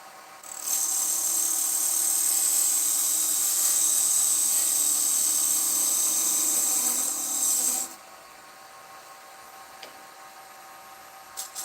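A handheld rotary tool carves a gouge line into a succulent holder, a loud, steady high-pitched whine that runs for about seven seconds and then cuts off abruptly, leaving quiet room tone with a faint tap.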